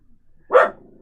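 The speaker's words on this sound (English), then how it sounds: "Laying under my feet barking." A dog lying under someone's feet lets out a single loud, close bark partway through, followed by a brief low trailing sound, with quiet surroundings before it.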